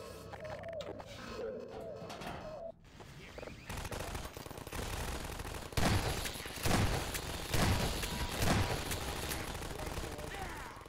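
Rapid gunfire in the video game Half-Life 2 builds through the second half as a series of loud pulsing bursts, with someone talking underneath the early part.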